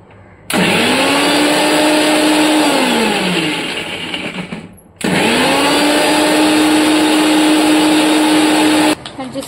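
An electric mixer grinder runs in a home kitchen in two loud, close bursts, each starting abruptly with a rising whine, holding a steady high-pitched motor drone, then cutting off.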